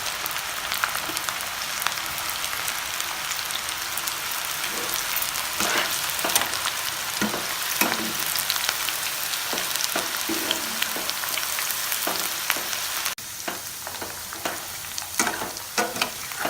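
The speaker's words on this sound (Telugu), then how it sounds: "మీడియం ఫ్లేమ్లో ఇలా వేయించుకోండి." Onion pakoda frying in hot oil over a medium flame, a steady dense sizzle with crackling pops and occasional stirring clicks, close and continuous without speech.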